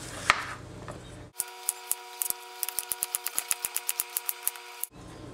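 A kitchen knife chops a zucchini into quarter-inch slices on a cutting board, a fast even run of about twenty crisp knocks after a brief pause, close and without talk.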